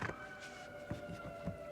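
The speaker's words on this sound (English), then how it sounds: "So that's an omen, the sirens." Wailing sirens in the distance, a steady tonal drone with faint rising sweeps under low background noise, continuous and quiet throughout.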